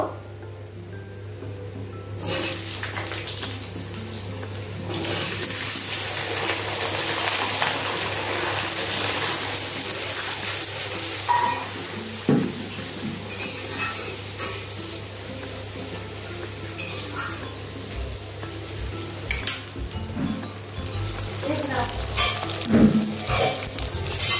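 Potatoes hit a hot pan with oil and nigella seeds, bursting into a loud, steady sizzle that carries on throughout, with occasional scrapes and clinks from stirring.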